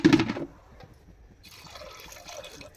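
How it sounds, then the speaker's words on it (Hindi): A short burst of water splashes into a pressure cooker holding chickpeas, then a pause and a faint trickling, dribbling sound close by, with no talking. "ये पानी दबा"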